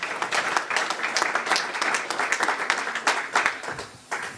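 Church congregation applauding at a Sunday worship service, a dense, steady wash of many hands clapping close by for the full stretch, with a brief dip near the end.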